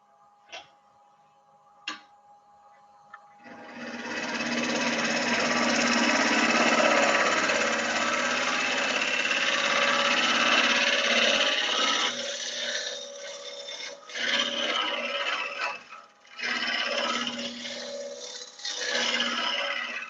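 Wood turning on a lathe as a gouge cuts into a spinning piece, a loud sustained rough scraping roar after a few taps, fluctuating as the cut varies.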